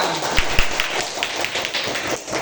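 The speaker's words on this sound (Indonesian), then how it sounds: "Tepuk tangan untuk mereka" A group of listeners claps for a group of students at a classroom presentation, dense, fairly loud broadband clapping that holds steady for a couple of seconds with a few sharper taps, with no talking.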